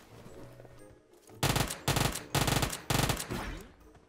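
Four bursts of rapid automatic gunfire from the PUBG Mobile battle royale game, each about half a second long, loud and close, separated by short pauses over a low game background.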